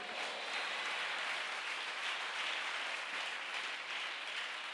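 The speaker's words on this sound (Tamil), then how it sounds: "என்ன விசுவாச கைத்தட்டு." A church congregation claps together in a steady, dense wash of applause that holds at an even level for several seconds, with no break or pause.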